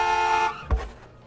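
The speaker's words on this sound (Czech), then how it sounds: "Klakson máš skvělej, ale jede ti to." A car horn sounds one sustained honk that cuts off abruptly, followed by a brief thump and fading vehicle noise.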